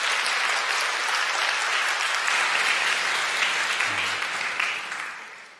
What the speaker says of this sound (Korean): 잘 군복무하고 올 수 있도록 박수로 응원해 주시기 바랍니다.